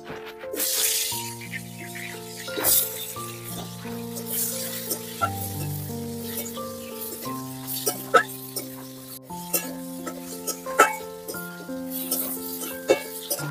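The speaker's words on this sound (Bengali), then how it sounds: "এবার আলুগুলোকে ভেজে নেব।" Potato pieces frying in hot oil in a pan keep up a steady, moderate sizzle with small crackles and stirring sounds, heard beneath a melodic background tune.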